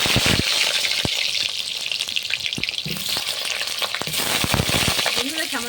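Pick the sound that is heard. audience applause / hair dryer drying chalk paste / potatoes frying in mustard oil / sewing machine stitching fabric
potatoes frying in mustard oil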